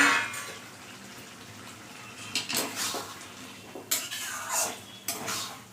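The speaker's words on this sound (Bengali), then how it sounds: "ঝিঙে আলুর সাথে ভালো করে বড়াগুলো মিশিয়ে নিলাম।" Lentil fritters being mixed into a ridge gourd and potato curry in a pot, with several clinks and scrapes of a spoon against the pan over a soft background hiss, growing busier toward the end.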